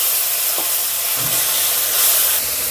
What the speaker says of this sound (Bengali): এরপরে মশলাটা আমি ভেজে নেবো